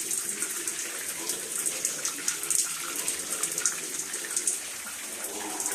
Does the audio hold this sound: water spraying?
yes